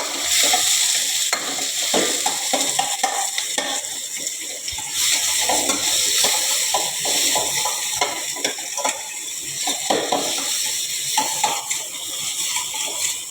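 Onions sauté in oil in a hot pan for egg rice, sizzling steadily while a spoon scrapes and stirs in frequent close strokes, with no talking.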